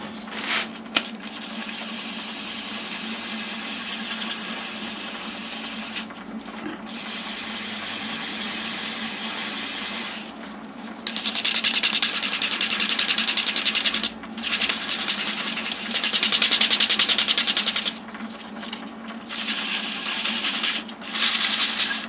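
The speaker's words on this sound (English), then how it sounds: "Slow the lathe down." A lathe turns a Corian pendant at low speed while a tool or abrasive rubs against the spinning piece, making a steady hiss in bursts broken by short pauses, close and fairly loud, with no speech.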